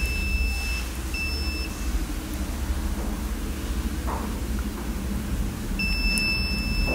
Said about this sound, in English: we connect the buzzer, now we can test our project